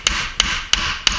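Four sharp hammer blows at an even pace driving a nail into wood, with a second hammer held as backing, each strike close and ringing with a bright metallic tone.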